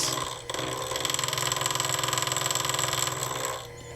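A chop saw grinding through a screw held in a shop-made cutting fixture, cleaning up a rough hand bandsaw cut; a loud, steady, rattling whine that holds for about three seconds before cutting off.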